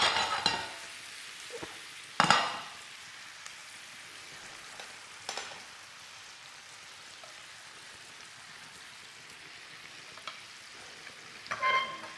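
Potatoes frying in butter in a pan make a soft, continuous sizzle, broken by a few sharp clatters and scrapes of stirring, the loudest near the start and end.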